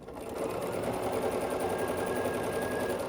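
A sewing machine stitches a quilt strip piece to a center square in a steady, continuous close-up whir of rapid needle strokes, with no talking.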